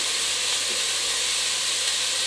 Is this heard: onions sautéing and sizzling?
yes